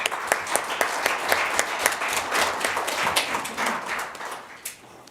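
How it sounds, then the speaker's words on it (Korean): Audience applause at a National Assembly forum on the May 18 spirit and the constitution, a dense burst of clapping that starts strong and slowly thins out over several seconds. "큰 박수로 맞이해 주십시오."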